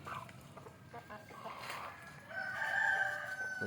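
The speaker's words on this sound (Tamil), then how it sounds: "சேவல்" A native country rooster crows faintly in the distance on a rainy day, with one drawn-out call rising toward the end over quiet background sound.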